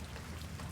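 Steady, dense rainfall hisses continuously on surfaces, a close, even wash of drops with no talk over it.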